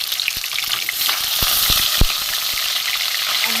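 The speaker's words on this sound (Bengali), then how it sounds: "অর্ধেকটা হয়ে গেছে ভাজা" Tilapia pieces sizzle in mustard oil, a dense continuous hiss up close with a few sharp pops and spatters, the loudest crackle around midway.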